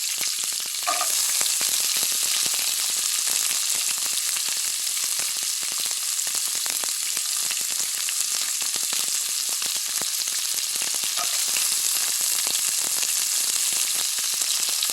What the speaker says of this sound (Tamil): கருவேப்பிலை பொறிஞ்சதையும் ஆனியன் வெங்காயத்தை போடுறேன் வெங்காயம் பச்சை மிளகாய்